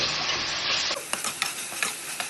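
Onions and tomato sizzle in a pan while being stirred, a soft steady frying hiss followed by light scraping taps of the spoon, close and fairly quiet, with no talk.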